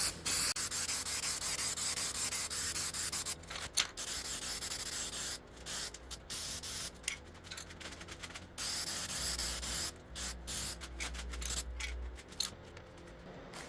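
A spray paint can coating a kitchen appliance: loud, close hissing bursts, several long sprays broken by short pauses and a few quick spurts, with nothing else heard.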